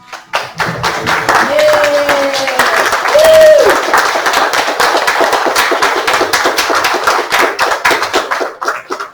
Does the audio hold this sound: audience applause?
yes